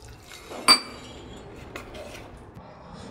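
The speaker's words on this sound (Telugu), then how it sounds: "పిండిని స్పూన్తో బాగా మిక్స్ చేసుకోవాలి" A spoon stirs Balamrutham idli batter with water in a bowl, giving one sharp, bright clink against the vessel early on, then soft, faint scraping and stirring.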